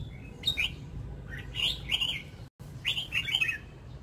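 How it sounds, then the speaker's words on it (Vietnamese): Several birds chirp and sing in short bright bursts on a rooftop bonsai terrace, fairly close and clear over a low steady background hum, with no talk. "Tiếng chim hót trong này rất hay."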